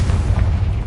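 A Confringo spell bursts in a Hogwarts Legacy fight, a dense, sustained low rumbling boom that stays loud and steady for the whole moment with no talking over it.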